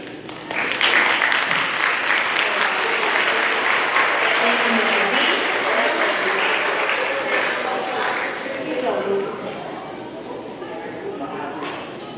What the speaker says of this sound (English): How about one more round of applause for Kayla?